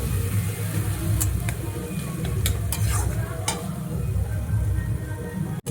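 Ginger, onion, chili and garlic pastes frying in a pan, giving a loud, continuous close sizzle with a few sharp clicks of a spoon stirring against the pan.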